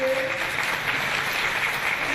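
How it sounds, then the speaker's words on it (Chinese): An audience at a lecture on dog behaviour claps for the speaker, a dense, steady round of applause filling the room throughout, with a voice faintly heard over it. "我们再一次最热烈的掌声，谢谢我们今天的讲师戴医师。"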